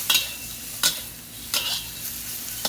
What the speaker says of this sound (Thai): ผัดหัวกุ้ง หัวกุ้งผัดพริกเผาพริกเผาลงไปเลยใช่ไหมครับ